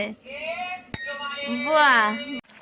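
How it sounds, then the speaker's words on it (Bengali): A child rings a bicycle bell while sitting on a bike, one sharp metallic ding cutting through nearby voices and a child's chatter in a home setting. "সাইকেলে উঠে বেল বাজাচ্ছে"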